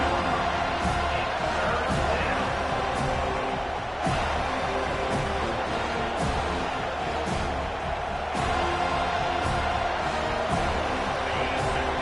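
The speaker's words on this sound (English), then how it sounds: "Here comes this home crowd as the defense tries to get off the field on 3rd down." A home stadium crowd in a Madden football game keeps up a dense, unbroken roar for the whole stretch, loud and steady, with faint sharp knocks now and then.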